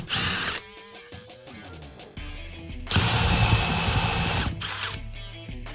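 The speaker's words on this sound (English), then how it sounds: "I used that bit to drill shallow little holes that those rounds could fit perfectly into" Bursts of a power drill whirring and stopping as a paddle bit drills shallow holes, loud and close, with quieter grinding and clicking in between.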